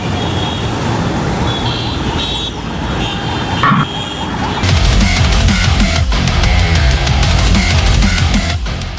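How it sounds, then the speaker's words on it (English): Heavy city traffic in Dallas, Texas, with road rage and a flurry of car horns: a quieter stretch of engine and road noise gives way to loud, repeated honking that stacks up in quick bursts over a rumbling roadway. "That is to say, with a lot of road rage and an extreme amount of honking"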